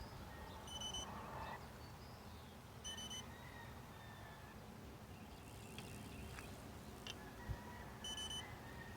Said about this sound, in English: it'll beep at you.